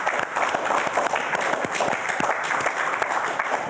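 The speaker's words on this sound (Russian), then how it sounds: "Аплодисменты вам." Steady applause from an audience at a Border Guards' Day evening show in Gomel, dense continuous clapping throughout at a fairly loud, even level.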